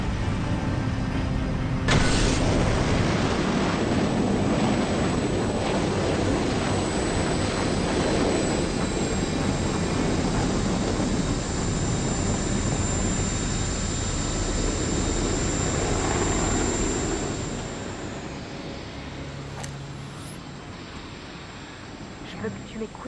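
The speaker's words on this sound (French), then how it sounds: "Décollage en cours." A shuttle takes off in the Farpoint VR video game: a loud, broad engine roar that holds steady for about twenty seconds, then eases slightly as it continues.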